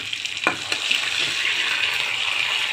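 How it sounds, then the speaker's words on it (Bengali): Ginger and garlic hit a pan of browned onions with chilli and turmeric, setting off a loud, steady, close sizzle with a few scraping stirs near the start. "আদা রসুন অ্যাড করে দিলাম"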